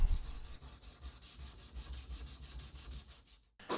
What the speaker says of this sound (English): we move on to our hand sanding, which is always loads of fun